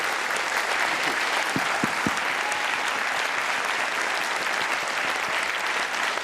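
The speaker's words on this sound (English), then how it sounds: "give me a massive round of applause to him." An audience applauds after an opening keynote by Michael Rosen: dense, steady clapping from a large crowd, sustained at even loudness throughout.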